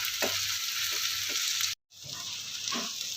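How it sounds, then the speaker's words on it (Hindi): Chicken frying with browned onions over a low flame gives a steady close sizzle with occasional stirring scrapes, briefly cut to silence partway before the frying resumes slightly quieter. "अब मैं इसको भून रही हूँ अच्छी तरह। चिकन को लो फ्लेम पे मैंने फ्राई कर लिया"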